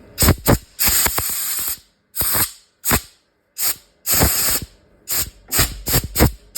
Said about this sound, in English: loosen up that bug track and blow it out with the air compressor